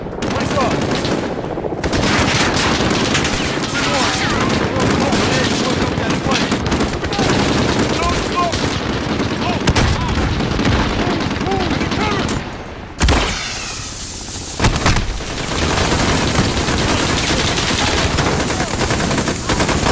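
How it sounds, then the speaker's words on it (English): A machine gun in Call of Duty Modern Warfare 2 fires loud, sustained bursts over heavy battlefield gunfire and explosions, with a short lull near the end before the shooting resumes. "All I see is that MG shooting at us."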